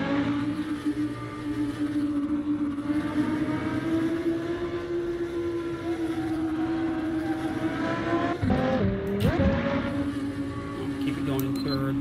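A hypercar engine in the Assetto Corsa racing game drones at a steady high pitch, with a brief rev change near the end, while a person talks over it throughout.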